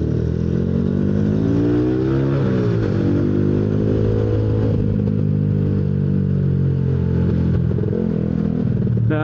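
A Yamaha Jupiter MX motorcycle engine, bored up to 155, runs loud and continuous on a dyno, revving up and holding high with shifting harmonic whine, no voices over it.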